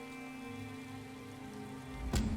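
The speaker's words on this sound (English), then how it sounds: "I could do without this damnable rain. It's been storming since we arrived, and it shows no sign of letting up." Steady rain from The Elder Scrolls Online, a dense continuous hiss of drops on surfaces with a low ambient bed, broken near the end by a brief sharper burst.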